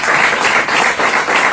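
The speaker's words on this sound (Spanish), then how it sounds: "un fuerte aplauso para Luis, que nos va a presentar el libro." Audience applause for a speaker at a literary book presentation, a dense, loud burst of many hands clapping at once, filling the short moment without talk.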